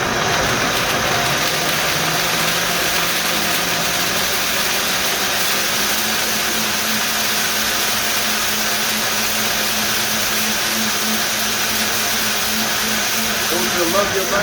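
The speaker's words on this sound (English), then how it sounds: "This is at the lowest blender speed." A blender blending Irish sea moss at a higher speed makes a loud, steady whirring motor drone that runs unbroken throughout.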